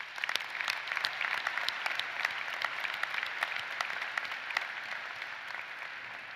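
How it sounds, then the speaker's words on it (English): A university commencement audience applauds award winners steadily, a dense patter of many hands clapping at moderate volume, with no voices and no break for the whole stretch. "So let's applaud these award winners."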